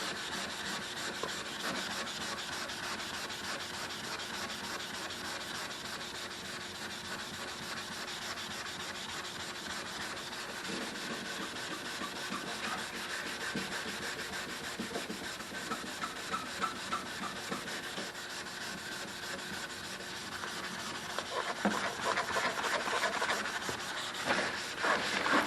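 Wet sanding of the paint on a 1986 Monte Carlo using water-lubricated paper makes a continuous rhythmic scrubbing rasp, close and steady, growing slightly louder and choppier near the end.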